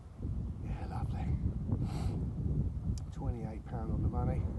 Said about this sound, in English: It's bloody windy tonight.